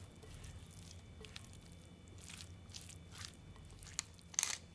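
Coleslaw with tuna, lemon and Japanese mayonnaise being mixed, soft wet squishes and faint crunchy rustles in a quiet, close setting, with a few sharper clicks near the end.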